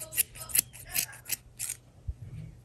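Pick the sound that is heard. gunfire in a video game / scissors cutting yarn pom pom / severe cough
scissors cutting yarn pom pom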